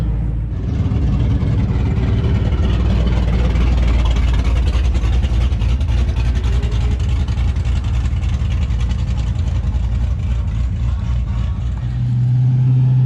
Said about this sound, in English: Here we got one of the trucks coming off of the autocross track, and maybe you can hear it.